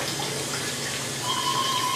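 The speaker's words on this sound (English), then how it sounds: "place it in this running cold water to keep the color, to cool it off" Cold tap water runs steadily over freshly boiled al dente pasta in a catering kitchen sink, a continuous close hiss and splash with no pauses and no voices.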